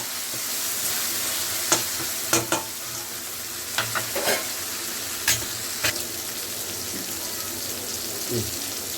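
Tomatoes sizzle in a pan for an intestine gravy, a steady close frying hiss with occasional sharp scrapes and taps of stirring.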